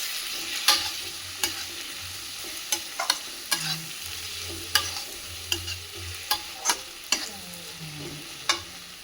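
Onion and poppy seed frying with Kashmiri chilli, stirred with a utensil. There are regular scraping strokes against the pan over a steady, close sizzle, with no talking.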